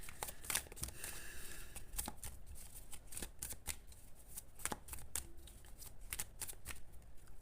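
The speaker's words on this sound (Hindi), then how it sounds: "अभी मैं टाइम प्रिडिक्शन कार्ड से भी एक कार्ड निकालूंगी।" Tarot cards being shuffled by hand before one is drawn for a Cancer reading, a steady run of crisp riffling snaps and slides, close and fairly quiet, with no voices.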